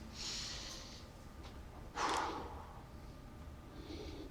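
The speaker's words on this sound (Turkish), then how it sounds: "Derin nefes alın." Quiet, airy breaths: a soft inhale, then a sharper, deeper intake of air, followed by a faint exhale in a hushed setting.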